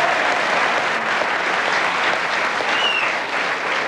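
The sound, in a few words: studio audience applause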